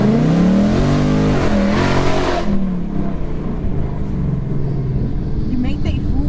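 A modified Ford Mustang GT engine roars loudly at high revs for about two seconds, then eases into a lower, steady idle rumble that carries on to the end.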